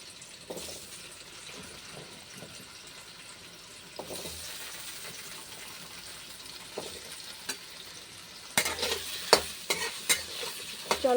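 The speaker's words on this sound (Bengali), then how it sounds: "চলো এবার আলুটা ভালো করে ভেজে নিই।" Potatoes and paneer frying in hot oil in a pan, a steady close sizzle with scattered stirring clatters that grow louder and busier toward the end.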